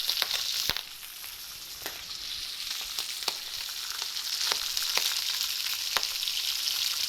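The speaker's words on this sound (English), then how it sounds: "That's popping because of there's a lot of liquid in fish." Steelhead fillets fry in a hot pan with butter, giving a steady close sizzle broken by sharp pops and crackles every second or so, with no voices.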